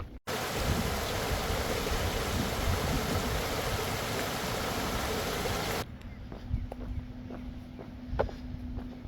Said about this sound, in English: Go check out how the water's flowing under the old bridge.